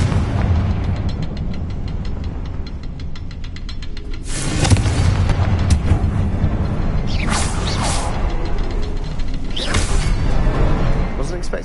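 Confringo spell blasts in Hogwarts Legacy, several heavy booming explosions with whooshing bursts, each spaced a few seconds apart over a steady rumbling game background.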